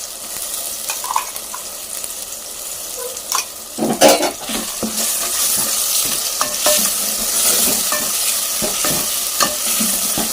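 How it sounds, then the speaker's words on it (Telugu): Onion and green chilli pieces fry in hot oil, a steady close sizzle broken by stirring clatter from a utensil against the pan, with no voices. "ఉల్లిపాయ పచ్చిమిరపకాయ ముక్కలు అయితే వేగింది"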